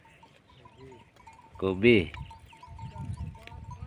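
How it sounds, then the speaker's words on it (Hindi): Goats grazing in village countryside give a short pair of bleats near the middle, heard amid nearby speech and outdoor background noise. "बकरी चल रही है, और साथ में कुछ गांव का भी बकरी है"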